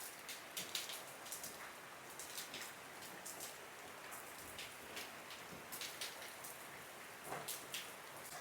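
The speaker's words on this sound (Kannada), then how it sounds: "ನೋಡಿ ಎಷ್ಟು ಜೋರು ಮಳೆ ಸ್ಟಾರ್ಟ್ ಆಯಿತು" Heavy rain falls steadily and fairly faintly at a distance, a dense, even hiss broken by scattered sharper drop spatters, with no voices.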